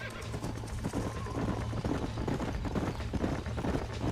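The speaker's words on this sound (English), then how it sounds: "These are fine horses." Horses in the Red Dead Redemption video game whinny and clip-clop amid a dense, busy game soundscape, with a steady low hum and hoofbeats blending into continuous background noise.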